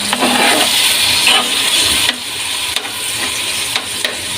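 Ground meat sizzles in a pan while bottle gourd (upo) is sautéed, a loud, continuous crackling fry with stirring scrapes and soft knocks throughout, close and without talk.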